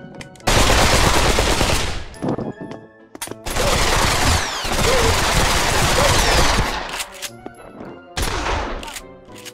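Automatic weapons fire in the VR shooter Pavlov VR, several long, loud, close bursts of rapid shots broken by short pauses, with no talking.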